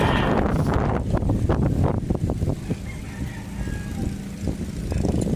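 Strong gusts of Typhoon Carina buffet the microphone in a loud, rough roar that surges and dips, with a few scraping knocks partway through.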